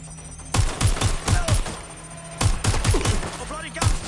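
Gunfire sounds from a shooter in Watch Dogs: loud, close bursts of rapid rounds come in three volleys separated by brief lulls, with a voice talking between them.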